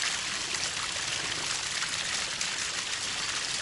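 Stream water flows and trickles continuously at an outdoor tarp campsite, a steady, close, hissing babble with no voices.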